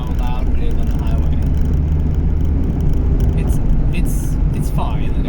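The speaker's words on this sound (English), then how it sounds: "this will give you a good understanding of the soft top and how loud it is on the highway" An ND Mazda MX-5 Miata with its soft top up cruises on the highway, filling the cabin with loud, steady road and wind roar and low engine drone, constant throughout.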